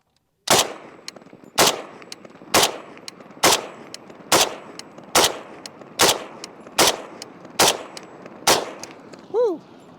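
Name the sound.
Dragunov rifle firing a full magazine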